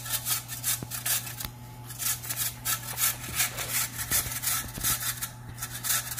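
A potato is grated by hand for meatloaf, producing a rhythmic run of rasping strokes against the grater, close and moderately loud, with a low steady hum behind them.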